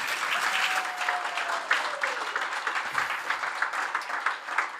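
An audience claps steadily for several seconds, a dense, even patter of hands with occasional louder claps.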